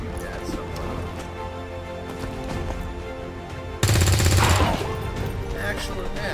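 Gunfire in the strategy game XCOM 2: War of the Chosen, with a loud sudden burst of rapid shots cutting in partway through over a busy game soundscape, and voices talking around it.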